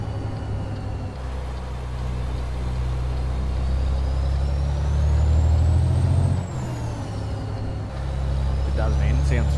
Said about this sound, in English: this bloody Detroit is loud, man